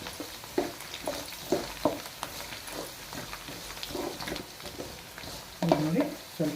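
Garlic roasting in hot oil for a quick pickle sizzles and crackles steadily as it is stirred with scraping strokes, close by, with a brief voice near the end.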